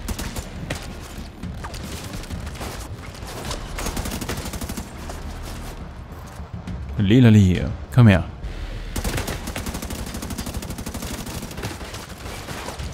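Bursts of automatic gunfire in The Division 2, rapid loud volleys and a couple of heavier booms, with someone talking through much of the action.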